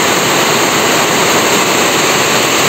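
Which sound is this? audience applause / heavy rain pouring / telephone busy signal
heavy rain pouring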